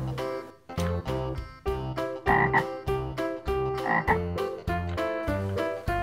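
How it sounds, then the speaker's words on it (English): A green frog animal toy gives a run of electronic croaks, about a dozen evenly spaced, bright, buzzy bursts filling six seconds, loud and close with no talking. "Green Frog."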